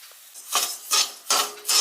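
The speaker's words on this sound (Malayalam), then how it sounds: "അതിന് വേണ്ടിയിട്ടുള്ള തേങ്ങയാണ് ഞാനത് വറുത്തുകൊണ്ടിരിക്കുന്നത്." Grated coconut is dry-roasted in a pan for mushroom curry, stirred with a utensil in four rhythmic scraping strokes, close and crisp, with no talk.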